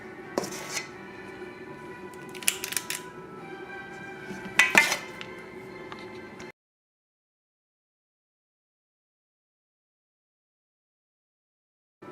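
Five large buttermilk biscuits set down on a metal baking pan, a few close, light clinks and scrapes over a quiet room tone, followed by silence.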